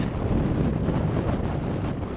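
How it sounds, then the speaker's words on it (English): Wind gusting at Walker Lake, Nevada, a steady broadband roar buffeting the microphone throughout, fairly loud and unbroken, with no voices. "it is so windy"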